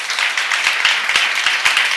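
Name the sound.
congregation clapping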